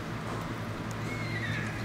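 A horse in the video game Red Dead Redemption 2 whinnies over steady clip-clopping hooves, a brief close call carried on a continuous low background rumble.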